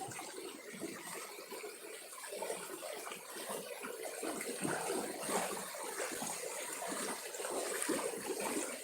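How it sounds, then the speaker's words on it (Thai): Natural shallow rapids at Ban Na Wiang Kham Siri, Yasothon, Thailand: a continuous, fairly soft rush and gurgle of flowing water over rocks, steady throughout with slight swells and no voices. "พามาชมน้ำไหลหลาก จากธรรมชาติ ไม่ใช่น้ำตก ไม่ใช่น้ำแข็ง"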